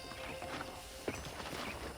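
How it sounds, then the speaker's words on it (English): Horse hooves clip-clop steadily in the Red Dead Redemption video game, a soft, even rhythm of light thuds set against a faint background hum. "I picked out a fine horse for you."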